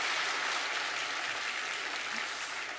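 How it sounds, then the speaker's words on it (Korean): A church congregation at a Sunday worship service applauds together, a dense, steady wash of clapping from many hands that fills the room evenly for a few seconds and tapers slightly at the end. "우리 크게 박수하겠습니다."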